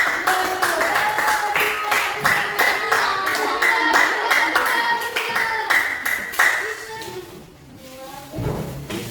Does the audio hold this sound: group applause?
yes